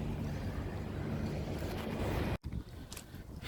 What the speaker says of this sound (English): It's very blustery.